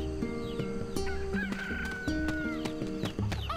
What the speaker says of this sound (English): They're my chicken.